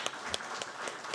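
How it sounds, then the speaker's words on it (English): Applause from an audience at an alumni networking meeting, a short burst of steady, moderately quiet clapping with a few sharper claps standing out. "Let's also welcome the Germans with a round of applause."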